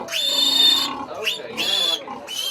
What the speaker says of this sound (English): However, Mama Pig didn't quite take to a stranger holding one of her piglets.